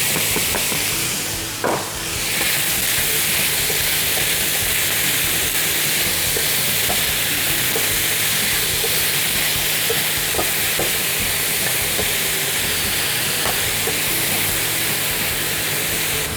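Diced onion sizzling and frying with bacon in a pan, a steady broadband hiss throughout with occasional faint stirring clicks, close and alone without talk.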